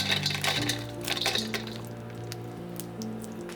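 Dried shrimp tipped into a frying pan of rendered Chinese sausage oil, a quick scatter of light clinks and crackles followed by a softer ongoing sizzle.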